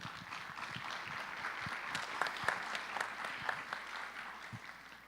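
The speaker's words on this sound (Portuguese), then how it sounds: "Eu gostaria que a igreja aplaudisse, por favor." A church congregation claps at a moderate level, with individual sharp claps standing out from the steady wash of applause.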